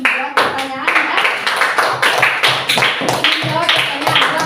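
Classroom students clapping together in a lesson, a dense burst of hand claps that builds and continues steadily throughout, mixed with some voices and chatter.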